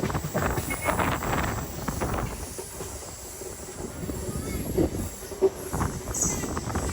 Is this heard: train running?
yes